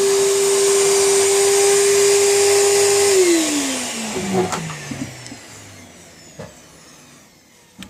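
A Charles wet and dry vacuum cleaner drones loudly and steadily, then its motor winds down and fades, leaving a few faint clicks and knocks.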